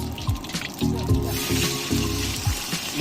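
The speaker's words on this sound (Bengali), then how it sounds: "ইলিশ মাছগুলোকে টকের জন্য ফেলে দিচ্ছি" Hilsa fish pieces dropped into liquid for a sour curry at an outdoor picnic, giving a few soft splashes and drips over a running-water trickle, close by.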